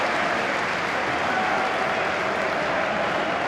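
A football crowd at Oxford United's stadium applauds a substituted player, a steady, dense and sustained roar of clapping from a large crowd throughout.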